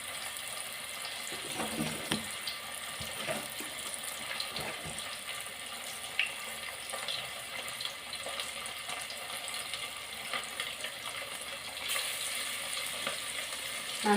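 Fish frying in a hot pan for a Tamil-style mango fish kulambu lunch, a steady close sizzle with faint crackles and pops running through the whole stretch, no talking.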